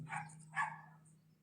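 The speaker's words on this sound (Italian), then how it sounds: "Questo è un cane che sentite da qualche casa." A dog barks from a nearby house, two short muffled barks close together and then fading, heard alone over a steady low hum.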